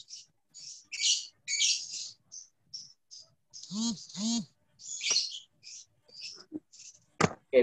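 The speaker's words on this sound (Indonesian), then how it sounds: "Yang ada suara kicauan burung, mikrofonnya dimatikan." Small birds chirp and tweet through a student's open microphone during an online class, bursts of bright high calls in an irregular run with a couple of brief faint human sounds mixed in.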